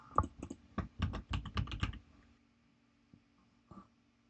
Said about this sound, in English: Let me just type it in chat real quick.